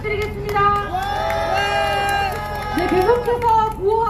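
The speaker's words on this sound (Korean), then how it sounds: "노현희 회원님께 다시 한번 큰 박수 부탁드리겠습니다." A crowd at an evening candlelight street rally outside a party office in Daegu claps and cheers loudly and continuously, with scattered shouting voices mixed through the applause.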